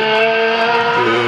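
A rally car's engine roars at high revs close by at a stage finish of the Rallye des Grands Fonds, steady and droning with a slight pitch shift near the end.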